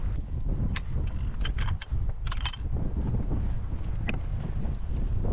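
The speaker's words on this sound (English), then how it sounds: "And it's got windy again." Wind buffets a microphone on an exposed hilltop in the Peak District, a steady low roaring rumble with scattered light crackles and rustles.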